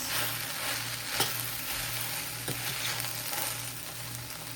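Okra curry seasoned with coriander-cumin powder, turmeric and salt sizzles steadily in a hot pan as it is stirred. Close, constant frying hiss carries a few soft spoon scrapes, and no one speaks.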